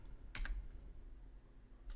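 Single keypresses on a computer keyboard, the Tab key being pressed: a close double click followed by a pause and one more faint tap near the end, over a quiet room hum.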